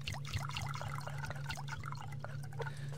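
Watering crops in Subsistence: a steady trickle and patter of water droplets splashing, with bubbly liquid bloops over a low constant hum, moderately quiet and close.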